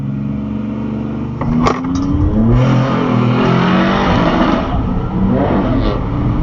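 Turbocharged drag race cars launch at the strip: a loud engine roar that builds from a steady idle into rising, straining revs, continuing close and strong to the end.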